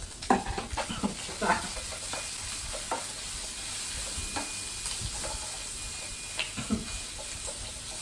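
Shrimp and minced pork stir-fried for pad kaprao sizzle steadily in a hot pan, with a spatula scraping and stirring in irregular bursts over a continuous frying hiss, close by and at moderate loudness.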